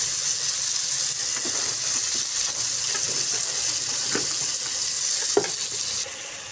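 Food fries in oil in a home kitchen pan with a loud, even sizzle, broken by a few light stirring clicks and scrapes. The sound drops off suddenly at the end, with no voices.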